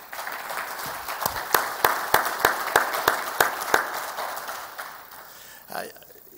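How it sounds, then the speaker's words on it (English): Conference audience at the RAME Dubai 2015 event applauds, starting as a few separate sharp claps that swell into steady clapping, then fade out before a brief voice near the end. "So I really think that he needs a round of applause, ladies and gentlemen."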